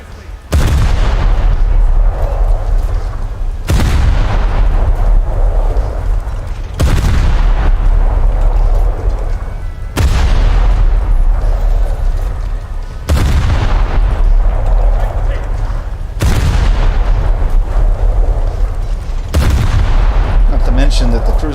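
Naval cruiser guns firing in the video game War Thunder: seven heavy booming salvos spaced about three seconds apart, each a loud blast followed by a rumbling decay.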